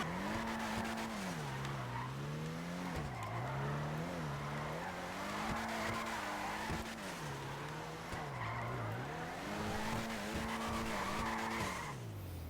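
An Ubermacht Zion Classic drifts in GTA 5 Online, its engine droning and rising and falling in repeated waves while the tires squeal and skid continuously through a long slide, with no one talking.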